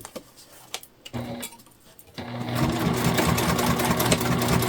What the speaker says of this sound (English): Okay, we're just back stitching.